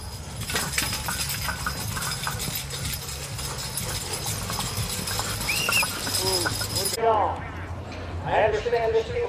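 Horse hooves clip-clop at a 4-H fair horse and pony pull as a team of draft horses is worked, heard steadily under a loudspeaker announcer's talk and crowd noise, with some whinnying sounds near the end.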